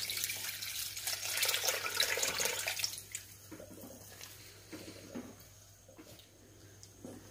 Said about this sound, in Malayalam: ഇതിലോട്ട് നമുക്ക് ഒന്നാം പാൽ ചേർത്ത് കൊടുത്ത് യോജിപ്പിച്ചെടുക്കാം.